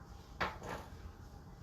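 A low kitchen drawer slides open with a brief scraping rattle, fairly quiet against steady room noise, with no talk over it.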